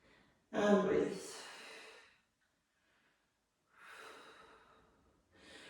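Slow breathing during a yoga flow, with a deep audible breath close up, then a pause of silence before a softer second exhale.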